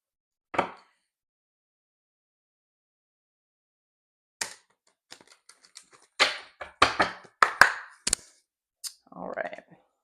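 Tarot cards being shuffled give off sharp clicks and riffling bursts, one on its own and then a dense cluster near the end, with short quiet gaps between. Sparse and close, with no talking over it.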